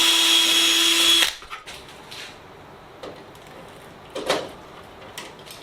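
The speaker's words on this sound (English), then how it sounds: "I'm just going to go ahead and do some pilot holes through here" A power drill bores pilot holes in aluminum parts of a Sonex aircraft fuselage tail cone box, a high whine for about a second that cuts off, followed by scattered light clicks and clunks of handling.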